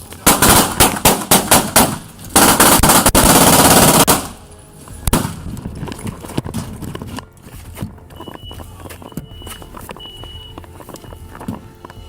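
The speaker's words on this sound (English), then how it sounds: "The sound of rapid gunshots filled the entryway." Rapid gunshots blast at point-blank range in a house entryway during a Houston police bodycam encounter: a dense run of loud, sharp cracks for about four seconds, then scattered knocks and shuffling noise.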